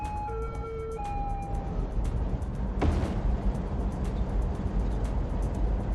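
Emergency siren in the Cities: Skylines city-building game wails with rising and falling tones in the first couple of seconds, then fades under steady game ambience and traffic-like background noise.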